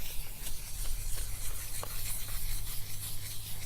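Car headlight lens, a Sequoia's, wet sanded by hand with 200 grit sandpaper in light circular motions, giving a steady gritty rubbing hiss that pulses with each stroke, close up and without speech.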